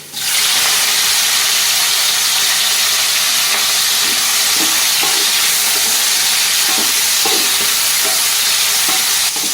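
Washed prawns coated in salt and turmeric hit hot oil with garlic and fry in a loud, bright, continuous sizzle close up, with a few soft stirring knocks and no talking.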